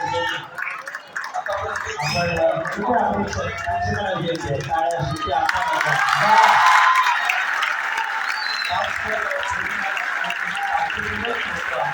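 A crowd claps and cheers over a loud amplified voice at a Dahi Handi festival in Shrivardhan, Raigad, with the applause swelling into a dense roar partway through.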